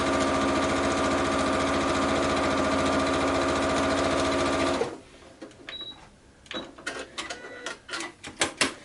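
A sewing machine stitches a quilted vest made from coat scraps with a loud, steady, close whir for about five seconds, then stops, followed by scattered clicks and handling noises.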